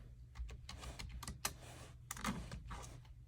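Keys clatter on a computer keyboard while song titles are entered into presentation software, a quick irregular run of close, fairly quiet clicks and taps with short pauses between bursts.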